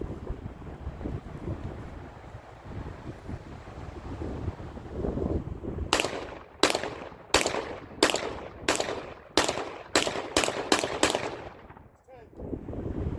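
A Panzer EG200 shotgun with a magazine extension firing buckshot and target loads, a rapid string of about ten loud, sharp shots that comes in after steady wind noise.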